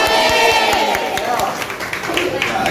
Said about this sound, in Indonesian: Hari ini tepuk tangan sama Pak Jokowi.